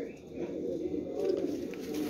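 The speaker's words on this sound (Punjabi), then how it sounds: "ਇਹ ਦੇਖੋ ਕਬੂਤਰ" Pigeons coo in a low, continuous murmur close by, a soft steady rumble with faint background noise.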